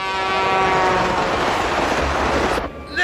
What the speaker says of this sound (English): Never mind, the choo-choo's on its way!